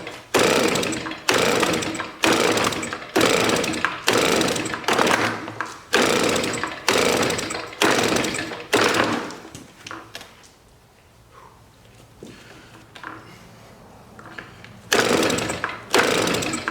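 Flooded leaf blower engine cranked repeatedly by its pull-start, a run of rhythmic rasping pulls roughly every second, then a quiet pause before more pulls resume; the engine does not catch.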